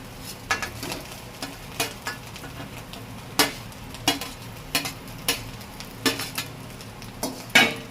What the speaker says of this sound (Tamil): இட்லி போட்டோடனே நல்லா கிளறிக்கோங்க